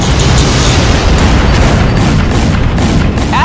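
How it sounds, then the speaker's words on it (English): Crysis 2 Remastered missile launch and explosion: a loud, dense, continuous roar of booming blast noise fills the whole span, rumbling low with a sustained wash, no separate distinct hits. "Target locked. Missile away."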